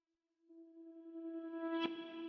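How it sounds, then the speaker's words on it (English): A sustained synth tone swells in slowly, as if reversed, growing brighter and louder with a washy reverb tail and a brief bright flare near the end. "you can hear we kind of get that reverse sound in the background"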